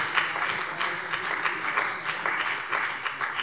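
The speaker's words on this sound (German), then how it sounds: "das ist auch einmal ein Applaus wert" Applause from members during a plenary session of the Hessian state parliament, a steady, moderately quiet wash of many hands clapping that sustains throughout.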